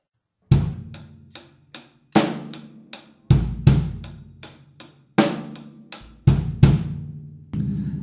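A drum kit plays a slow halftime groove with a steady eighth-note hi-hat pulse, kick and snare hits landing in a repeating pattern, close and clear with no voices, ending on a lighter cymbal tap.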